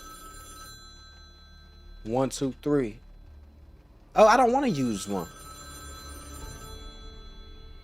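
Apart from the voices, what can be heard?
telephone ringing in a video game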